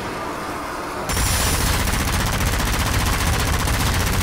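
Rapid automatic weapon fire in the Zombie Army 4 video game, a loud, dense burst of shots starting after a brief moment of quieter background and continuing unbroken to the end.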